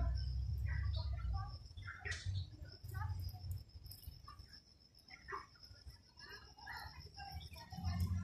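Scattered bird chirps and tweets ring out in a quiet, wooded park in Whampoa, some near and some farther off, over a soft steady hum.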